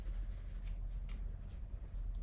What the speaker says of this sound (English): now we can come back in with our pencil and start to add in some darker details